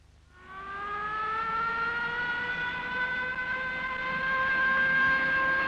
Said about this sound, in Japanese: レーダーが敵機を捉えたことを知らせるサイレンの響き